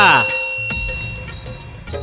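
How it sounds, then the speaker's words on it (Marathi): A notification bell sound effect gives a bright ding whose ring lingers and fades, then chimes again briefly, with a voice speaking around it. "घंटी नक्की वाजवा"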